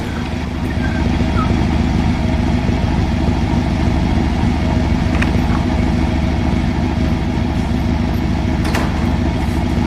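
A car engine idles loudly inside an enclosed home garage, a constant close rumbling drone running steadily without pause, with no talk.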